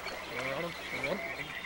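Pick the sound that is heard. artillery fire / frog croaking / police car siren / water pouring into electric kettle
frog croaking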